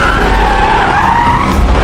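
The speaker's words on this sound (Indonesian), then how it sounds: "mobil hitam itu kembali menabrak bagian samping mobil James." A black car rams the side of another car in a film action scene, heard as a loud, sustained tire squeal and skid with engine roar throughout, with no speech.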